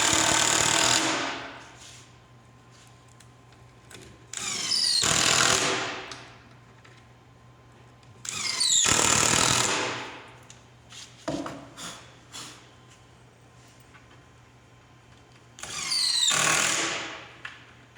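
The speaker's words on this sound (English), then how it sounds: "Go ahead and finish screwing it" Power drill driving screws into an upper kitchen cabinet during assembly, loud whirring bursts of a few seconds each, separated by pauses, close by.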